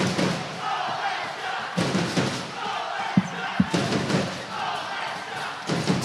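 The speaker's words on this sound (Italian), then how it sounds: "Si fanno sentire i tifosi della Fortitudo" Fortitudo Pomezia supporters roar and chant in an indoor futsal arena during a Serie A match, a steady crowd din with a few sharp thuds and surges near the end.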